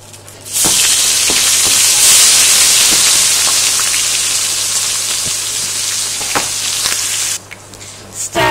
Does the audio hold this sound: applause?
no